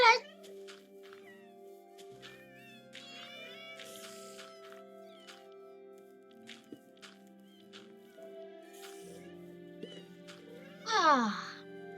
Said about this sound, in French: Il y a des chats partout maintenant.